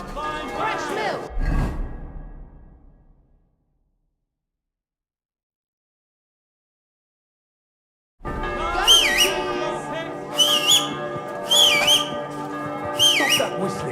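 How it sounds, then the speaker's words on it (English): A tuneful whistle carries a melody in Kingdom Come Deliverance II, heard as a few seconds of sound, then a long silence, then bright repeated whistled notes returning over a busy background. "Stop that whistling."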